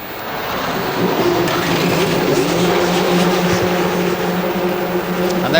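Zytec V8 engines of A1GP race cars fired up on the grid at the Shanghai race, a dense, steady roar of many idling engines blended with crowd and circuit noise throughout.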